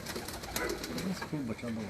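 Fancy pigeons cooing in soft, repeated low throaty calls close by at a rooftop loft, with some background chatter and noise.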